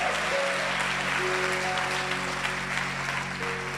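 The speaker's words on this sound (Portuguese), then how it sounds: "Pode aplaudir o Senhor." A church congregation applauds steadily in a large hall, the clapping dense and sustained throughout, with a faint organ or keyboard tone held underneath.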